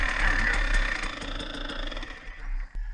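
A 2020 KTM 300 XC-W two-stroke dirt bike engine runs steadily nearby, a continuous buzzing drone with a few small throttle dips toward the end, heard alone.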